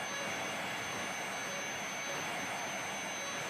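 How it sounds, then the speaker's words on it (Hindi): A helicopter lands in a harvested wheat field in Jaunpur, its engine and rotors producing a steady, loud, unbroken roar with a faint high whine throughout. "ये देखिए हेलीकॉप्टर जौनपुर में किस तरीके से खेत के बीचों बीच में, जहां पर गेहूं की फसल की कटाई हुई, वहां पर लैंड कर रहा है"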